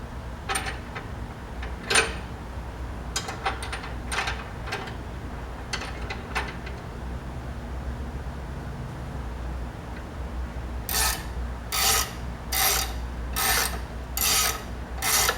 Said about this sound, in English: So now that we have the spring set, I'm going to start compressing it.